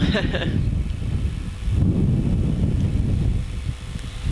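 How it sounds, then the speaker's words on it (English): Wind gusts buffet the microphone at an outdoor women's rugby match in November, a steady heavy low rumble that swells and fades, nearly masking everything else. "we're in the middle of a gust"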